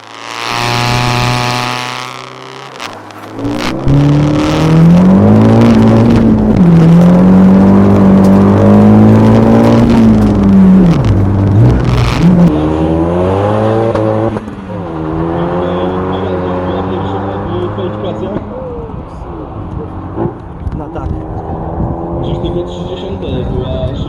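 Drag racing cars in the LWD Turbo class final build from a brief idle into a long, loud, rising engine wail that falls and climbs through gear changes before fading into a quieter, distant run.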